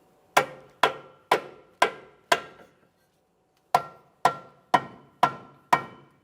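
A rubber mallet taps a front lower control arm into place on a 2014-2018 Mazda 3: five sharp, evenly spaced knocks, a short pause, then five more, each a crisp close hit with a quick decay.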